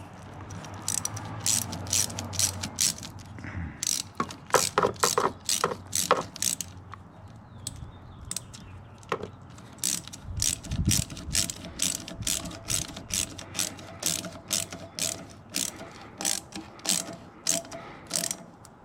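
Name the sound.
ratchet tightening down a Mustang GT catch can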